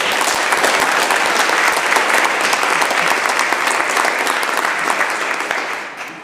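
Legislators in the BC Legislature chamber clap together in a loud, sustained burst of applause that thins out and fades over the final second.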